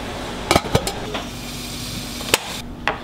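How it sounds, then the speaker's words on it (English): Live crawfish are stirred around in a metal pot, with a few sharp clanks and scrapes against the pot over a low steady hiss, then a quieter pause and one more clank. "we're gonna stir them around for a little bit"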